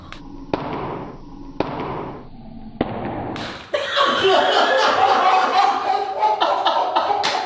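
Tortilla slaps to the face land as several sharp, loud smacks about a second apart, followed by a burst of laughter and lively chatter from a group of people nearby.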